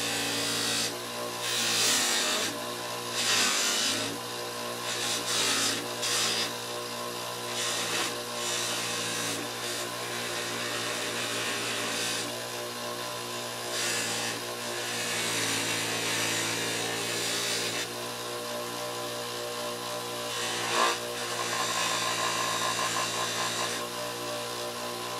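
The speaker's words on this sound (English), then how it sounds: "Let the buffing compound do the job, not your hands." A buffing wheel runs steadily against a Hot Wheels die-cast car coated in buffing compound, giving a continuous close whirring rub with slight rises and dips in pressure and no talking.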